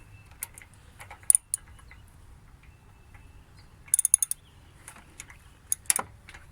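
Ratchet wrench tightening an oxygen sensor on a 2007 Toyota Camry Hybrid, heard as a few short bursts of quick metallic clicks, close and crisp, separated by quiet pauses.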